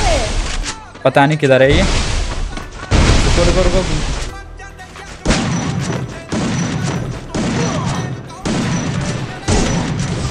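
Rapid bursts of video game gunfire crackle through a battle royale match, with close booming shots and short volleys recurring in clusters over about ten seconds while players talk excitedly over them.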